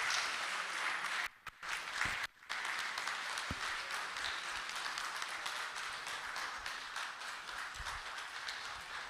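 Lecture audience clapping at a founders day event, a sustained broad wash of applause with two brief dips partway through, steady and moderately loud to the end.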